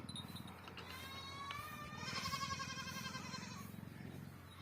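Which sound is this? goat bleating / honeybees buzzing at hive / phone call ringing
goat bleating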